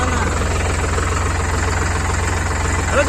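A Sonalika tractor engine runs steadily up close on a village farm outing, its loud diesel chug a continuous, even knocking throb that holds without a break across the whole stretch.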